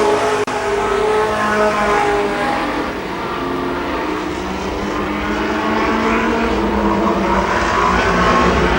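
Stock cars racing at Columbus Motor Speedway in 1993 roar loudly and continuously, with several engines overlapping as they pass close by on the oval.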